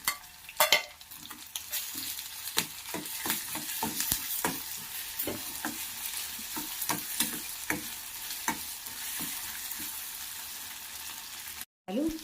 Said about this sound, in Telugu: ఇప్పుడు పచ్చాగా దంచుకున్న పచ్చిమిరపకాయలు తెల్లగడ్డని దీంట్లోకి వేసుకోవాలి వేసుకొని కొద్దిసేపు ఫ్రై చేసుకోవాలి